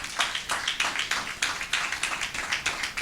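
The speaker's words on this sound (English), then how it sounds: "A round of applause for him," An audience at a college event gives a round of applause: a moderate, fairly thin patter of claps from a modest crowd, steady for about three seconds with no speech over it.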